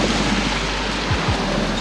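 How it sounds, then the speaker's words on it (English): Water floods into a boat lock through a lifted sluice door, giving a steady, loud broadband rush and roar that fills the whole stretch with no talking over it. "this basically lifts up a little door here, and you see the water now flooding in"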